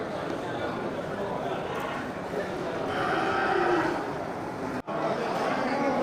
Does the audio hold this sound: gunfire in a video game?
no